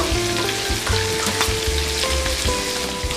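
Food seasoned with Creole seasoning fries in a pan while being stirred, a continuous crackling sizzle with a low intermittent hum and a sharp clatter at the end.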